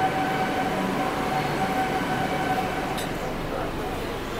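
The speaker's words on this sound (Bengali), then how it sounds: "ট্রেনটা প্ল্যাটফর্মে ঢুকে গেল।" A Kolkata Metro train pulls in at a platform, a steady loud rumble and rail hum filling the whole stretch, with a brief high screech near the end and a voice speaking faintly underneath.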